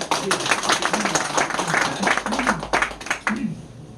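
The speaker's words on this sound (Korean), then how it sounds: "목사님께 박수 한번" An audience applauds for a pastor at a patriotic rally, a dense patter of clapping that runs for several seconds and then fades, with faint crowd noise mixed in.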